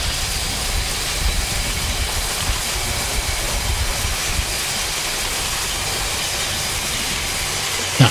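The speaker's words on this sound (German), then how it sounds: "Unser Zug schneidet die Weichenzunge auf." A Harz narrow-gauge Selketalbahn steam train crossing a railway switch: dense, steady rolling rumble and clatter close by, ending in a sharp knock.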